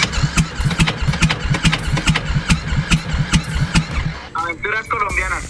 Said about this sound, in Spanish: Te voy a poner la moto para que escuches el sonido que hace